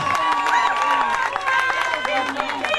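A crowd at a women's solidarity gathering applauds the president of the sector, with brisk dense clapping mixed with chatter and cheering, while voices talk over it.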